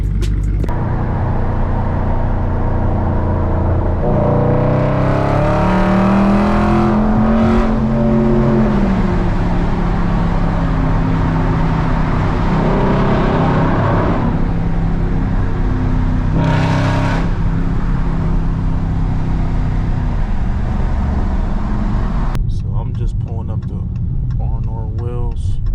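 A Dodge Scat Pack's engine drones steadily while driving, a loud, continuous close-up rumble that swells and eases a few times across the run.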